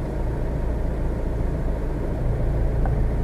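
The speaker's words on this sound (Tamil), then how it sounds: "இப்போது என்ஜின் சவுண்டு வேறு மாதிரி இருக்கும்" Car engine idling low as the clutch is slowly let out to the biting point during driving practice, a steady close rumble with a slight change in tone late on, no talk.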